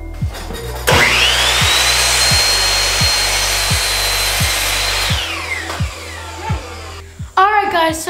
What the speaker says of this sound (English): Jeez, that drill is weak.